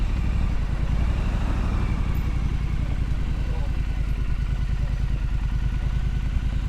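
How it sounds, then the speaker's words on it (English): A Triumph Scrambler motorcycle idles up close with a loud, even, throbbing exhaust beat, its crackle running steadily all the way through. "Bit of a crackle there from the exhaust"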